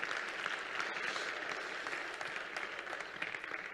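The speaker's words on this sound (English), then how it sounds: "give a big round of applause, or a big welcome to those people who came from abroad" An audience claps to welcome guests who came from abroad to an event in Israel, a steady, fairly distant wash of applause lasting a few seconds.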